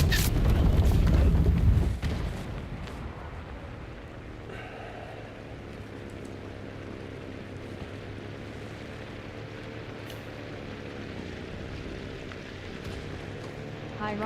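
A heavy, loud explosion from aerial bombing in the World War II shooter Enlisted, a broad low rumble for the first two seconds that fades into a lingering drone of engines and low ambient hum.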